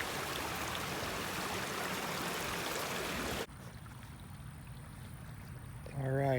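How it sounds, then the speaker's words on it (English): Rain pours down beside water among concrete blocks, a loud steady hiss for a few seconds before it cuts to a quieter outdoor scene with a faint wash and a voice beginning at the end. "because it's raining right now, I'm not so sure"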